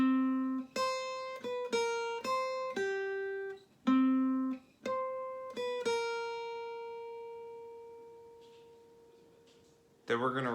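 Clean guitar plays the Foster's Home theme melody as a short run of single plucked notes, close and moderately loud, ending on a long ringing note that slowly fades.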